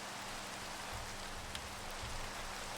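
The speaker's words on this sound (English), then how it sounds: "Stupid rain." Steady rain hisses in Minecraft, a constant even wash of droplets with a faint low rumble underneath and no voices.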